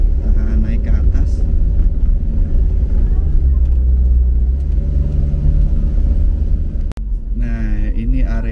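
A car climbs a steep hill road toward the luxury camping area at Kancana Mandira, its engine a steady, close, loud rumble throughout, with people talking inside the vehicle.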